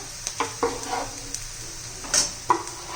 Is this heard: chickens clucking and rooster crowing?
no